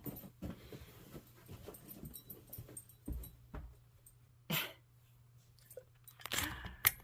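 A dog chews and crunches noisily up close, with scattered bites and a couple of sharper bursts against a quiet low hum.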